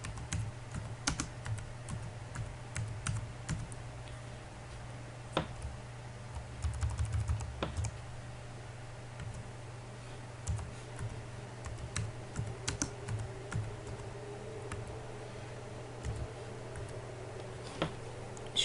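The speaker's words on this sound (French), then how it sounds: "Je tape quelque chose ici." Fingers type on a computer keyboard while creating a new document, keys ticking in steady, uneven bursts with brief pauses over a faint low hum, close by and alone with no talking.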